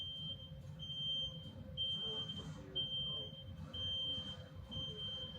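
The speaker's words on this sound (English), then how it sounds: "The trucks are beeping and backing up." Trucks beep while backing up outside a store in Greenpoint, New York City, a steady repeated high electronic tone pulsing over constant low street rumble, fairly loud and continuous with no talking.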